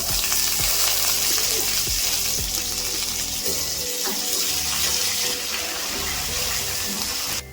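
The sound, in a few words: frying green chillies and curry leaves in a pan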